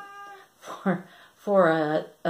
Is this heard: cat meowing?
yes